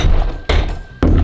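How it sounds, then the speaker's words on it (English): A small, lightweight hammer strikes a nail into a wooden box reinforced with metal, two sharp loud blows spaced about half a second apart, close by. "See if I can get the nail to go through."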